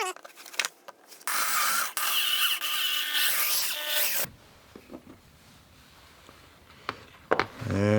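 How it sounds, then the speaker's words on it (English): A drill bores into a KTM 690 headlight mount, a loud, steady whirring grind lasting about three seconds before cutting off, followed by quieter handling clicks and a brief voice. "let's get drilling"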